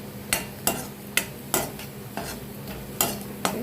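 Carrots roasting in a pan for chutney as a spatula stirs them, giving evenly spaced scrapes and taps over a soft sizzle, close and quiet, with no voices.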